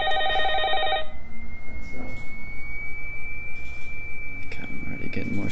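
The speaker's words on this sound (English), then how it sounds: "the phone could ring at any time" A telephone bell trills in a fast, bright ringing burst for about a second, then a steady electronic tone hums beneath a dense noisy background.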